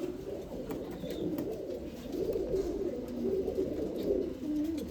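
A male pigeon, kept for sale in Karnataka, coos steadily in low repeated phrases, close and fairly quiet, with no talking.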